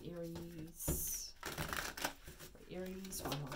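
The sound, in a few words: shuffling tarot cards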